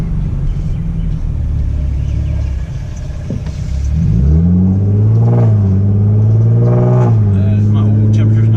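A Genesis car with the muffler and resonator removed runs and revs, its loud exhaust rising in pitch, with faint popping on lift-off.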